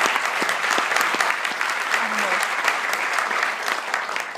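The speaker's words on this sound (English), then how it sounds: "So a round of applause for them being here for sure." Applause from an audience at an academic talk on whether morality needs God, a dense, steady round of clapping lasting a few seconds, fairly loud and close, with no speech.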